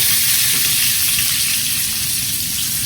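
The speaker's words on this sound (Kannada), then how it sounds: "ಆನಿಯನ್ ಮತ್ತು ಬೆಳ್ಳುಳ್ಳಿ ಚೆನ್ನಾಗಿ ಈ ಥರ ರೋಸ್ಟ್ ಆಗಬೇಕು ಇವಾಗ ಒಂದು ಟೊಮೆಟೊ ಹಾಕ್ತಾ ಇದ್ದೀನಿ" Onion, garlic and tomato roasting in a hot pan give off a steady, loud, close sizzle that holds unbroken throughout, with no talking.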